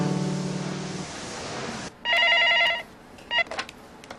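A telephone rings twice in a Korean marriage drama, short bright electronic trills separated by a pause, loud and close, following a stretch of low music.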